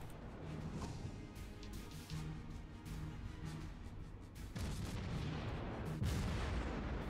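Naval gunfire from the cruiser Omaha in the World of Warships video game: dense, rumbling battle noise with repeated heavy booms layered over a constant low roar, loud and continuous throughout.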